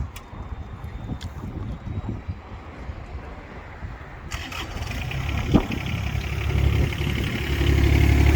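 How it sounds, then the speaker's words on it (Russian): Hitachi Zaxis U17 mini excavator, a 1.7-tonne machine, cranks and its engine catches midway, then settles into a steady, even idle that builds slightly toward the end. "Слышим, как ровно, четко работает двигатель."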